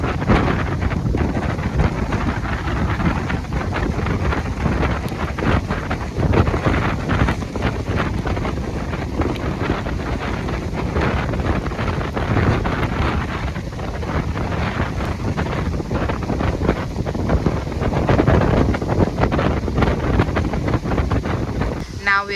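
Strong wind roars steadily against the microphone during a sudden stormy downpour at a beach on Dhiffushi in the Maldives, loud and unbroken, with voices talking beneath it.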